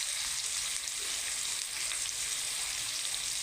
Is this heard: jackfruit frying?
yes